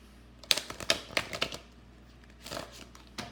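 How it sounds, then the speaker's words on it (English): Tarot cards are shuffled nearby in quick crisp riffles and slaps, a cluster of sharp clicks followed by a softer riffle a moment later, with no voices. "There I go, shuffling."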